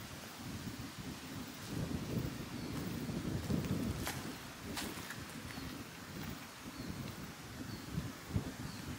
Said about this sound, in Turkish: Güneşli ama yağmur başladı.